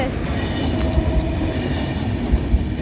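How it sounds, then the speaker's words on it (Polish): An Intercity passenger train pulls out of Opole Główny station toward Wrocław Główny, a steady loud rumble of rolling railcars with faint clicks of wheels over rail joints. "Wyjeżdża pociąg Intercity Naukowska do stacji Wrocław Główny z Białego Stoku"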